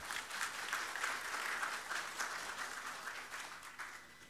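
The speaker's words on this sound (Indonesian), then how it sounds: "Mari kita berikan tepuk tangan sekali lagi." Audience applause at a Hippocratic oath ceremony for new doctors, a steady faint wash of many hands clapping that carries on for several seconds without talk.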